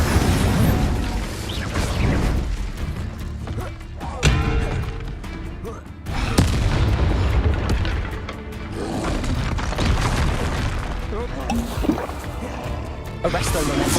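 Repeated booming blasts from Confringo fire spells cast in Hogwarts Legacy, heavy thuds and crackling bursts spread through a busy combat mix, with someone talking over much of it.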